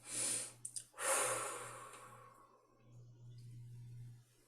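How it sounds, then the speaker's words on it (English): A long, slow breath in and out is taken during a guided relaxation session, close and soft, with a brief catch near the start, and quiet room tone afterward under a steady low hum. "taking another deep breath and touching our"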